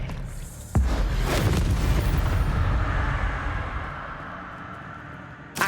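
Casting Expelliarmus in Hogwarts Legacy sets off a sudden heavy boom. A rumbling, roaring wash follows and gradually fades over several seconds.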